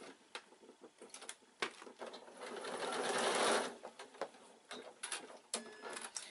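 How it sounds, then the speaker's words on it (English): A sewing machine top stitches leather look fabric in short bursts, with rapid clattering needle runs separated by clicks and pauses and one longer, louder stretch in the middle, heard close and without talk. "I'm going to just top stitch this to keep it all flat because it's moving about too much"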